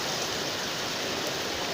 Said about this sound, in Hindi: लाहौर में बहुत ही तेज़ बारिश शुरू हो गई है